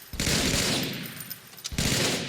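Loud gunfire from the video game Halo sounds as two heavy sustained bursts, each roaring for about a second and a half with a brief gap between, close and dominant with no voices.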